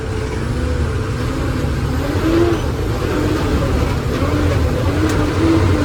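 A stuck vehicle's engine revving hard, a loud sustained mid-pitched drone with rising and falling strain, close by and steady for several seconds.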